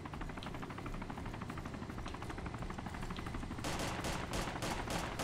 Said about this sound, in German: Da wird richtig geschossen, hörst du das?